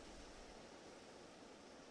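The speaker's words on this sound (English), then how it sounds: "I forgot how loud that water was" Loud, steady rushing water ambience in a video game, a constant broadband wash with no breaks, heard alone.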